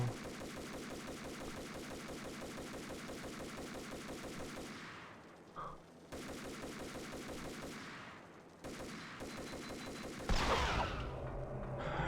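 Sustained rapid gunfire in the shooter game Max Payne 3, loud, steady bursts of automatic fire that cut out briefly twice and then resume, ending with a sharper crack of shots.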